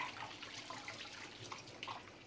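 Hands rinsed under running tap water at a kitchen sink while baking scones, a faint steady trickle and splash with soft drips throughout, no talking.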